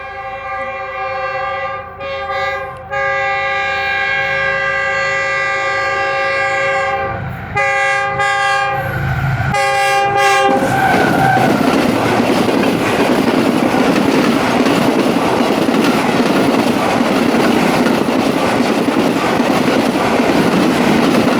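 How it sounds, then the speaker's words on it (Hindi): Horn of the 46 Down Pakistan Express passenger train, hauled by locomotive GU 49027, sounding in long sustained blasts at Jung Shahi station. The train then rushes past at about 103 km/h with a loud, steady roar and wheel clatter. "ये हॉर्न की आवाज़ आ रही है 46 डाउन पाकिस्तान एक्सप्रेस की"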